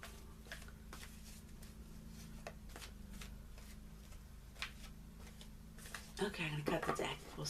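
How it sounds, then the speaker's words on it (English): A large deck of angel cards is shuffled in a series of soft, quick riffling flicks, close and quiet, ending in a louder burst of shuffling while a person speaks. "These are big decks of cards, so sometimes it's a little bit of a struggle shuffling them."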